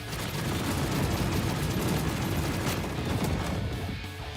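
A meteor attack move in the video game Blox Fruits, a dense continuous barrage of booming impacts and crackling blasts, loud and sustained with no talk.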